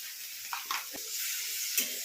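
Spices with Kashmiri chili powder sautéing in a pan, a steady soft sizzle with a few scraping stirs near the start and one more toward the end, close by with no talking.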